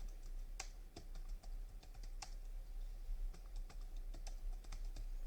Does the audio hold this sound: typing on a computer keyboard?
yes